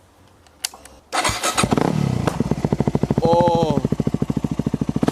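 Motorbike engine without its exhaust baffle starts up and revs loudly, then settles into a fast, pulsing idle close by, with a brief exclamation from a person at the start.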